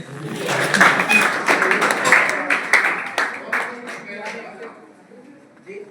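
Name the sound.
audience clapping at a college lecture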